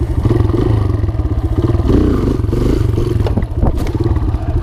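Dirt bike engine idling and burbling loudly and steadily while the rider practices wheelies with the clutch held in, with some clattering and scraping over the low engine drone throughout.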